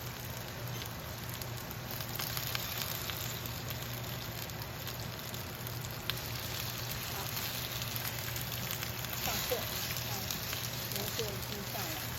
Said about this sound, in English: Please be careful as you add the ribs as they may splatter.